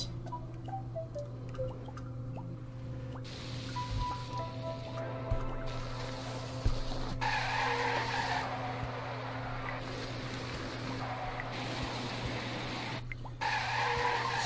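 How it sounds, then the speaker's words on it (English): A tires-skidding-on-road braking effect from the Dreams PS4 sound library, heard as several rough screeching skids over a steady low engine-like drone, fairly close and clear with no talk. "tires skidding on road is a good braking"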